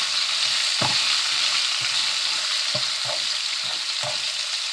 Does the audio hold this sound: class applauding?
no